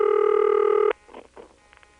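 A steady buzzing ringback tone from a 1978 Siemens motor-switch telephone exchange in Ocala-Silver Springs, Florida, holds for about a second, then cuts off, leaving faint background noise.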